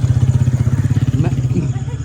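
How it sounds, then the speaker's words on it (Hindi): A motorcycle engine putters loudly and close by in a steady rapid rhythm, its throbbing tone shifting slightly as the bike nears, with faint voices in the background. "अनिश भाई एक साइड पे हो जाओ, बाइक आ रही है।"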